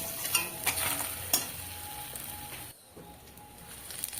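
Fish frying crisp in hot oil in a pan, a steady soft sizzle with a few sharp clicks of a utensil, briefly dipping quiet before the frying resumes.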